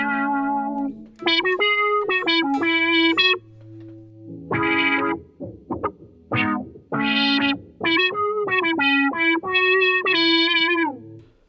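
Guitar played through a synth patch on a Boss SY-200 pedal, with no other effects, gives bright, buzzy, harmonically rich synth notes in short phrases with sustained held tones and brief gaps.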